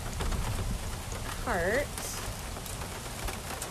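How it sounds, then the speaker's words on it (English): Steady rain patters throughout during a morning drive at Big Cat Rescue, an even close hiss under a brief spoken word and a short whistling tone partway through. "I'm just taking a drive about because you can hear it's raining"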